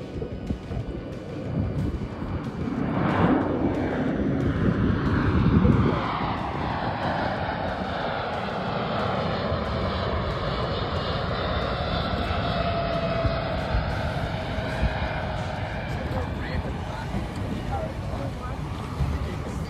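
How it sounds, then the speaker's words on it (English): Aircraft engines drone steadily overhead in an Anzac Day flyover above the bay, swelling to a loud peak as the plane passes close, then fading into a long, cruising hum with wind buffeting the microphone. "Anzac Day flyover."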